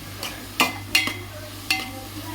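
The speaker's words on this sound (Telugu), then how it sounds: "ఈ ఉల్లిపాయలు లైట్ బ్రౌన్ కలర్ వచ్చే వరకు వేయించుకుంటూ ఉండాలండి" Onions fry in a pan while being stirred. A soft, steady sizzle runs under three distinct clinks and scrapes of a spoon against the pan.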